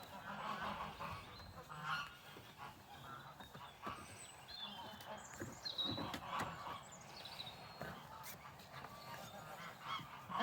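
A gander honks in a farmyard in the evening, among hens and other fowl. The calls come in repeated bursts over a quiet background, with fainter bird calls scattered between them.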